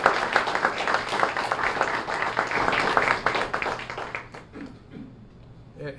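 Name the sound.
audience round of applause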